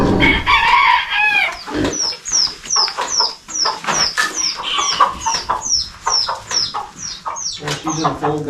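Farm chickens cluck and crow loudly and close by during homestead chores, with a run of sharp, evenly spaced squawks and calls repeating for several seconds.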